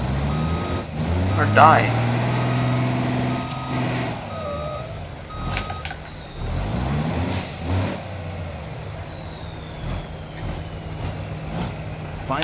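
A timber truck maneuvers and reverses in BeamNG.Drive, its engine droning and revving with a steady reversing beeper chirping through, plus an air brake hiss, all under a voice.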